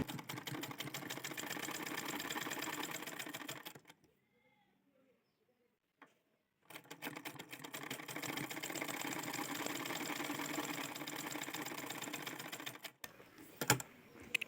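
Domestic sewing machine stitching piping onto a blouse: two long, rapid, rattling runs of needle strokes, close and steady, separated by a couple of seconds of near silence, ending with a few faint clicks.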